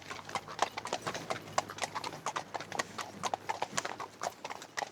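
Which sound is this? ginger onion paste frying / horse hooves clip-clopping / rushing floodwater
horse hooves clip-clopping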